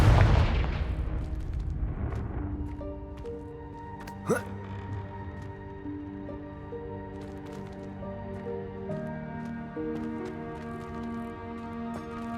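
A Confringo spell explodes in Hogwarts Legacy with a loud, deep blast at the opening that fades over a couple of seconds, then a sharp crack, with layered musical tones from the game humming underneath.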